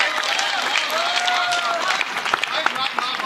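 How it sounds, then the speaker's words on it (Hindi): An audience breaks into applause, a dense, steady wash of clapping with some crowd noise and voices over it. "इनके लिए जोरदार तालियां बजा दी।"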